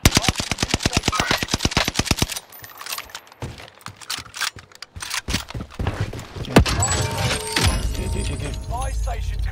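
Rapid automatic gunfire in Call of Duty: Warzone rattles out in a fast, loud burst, followed by scattered shots, impacts and game effects, with a player talking over parts of it.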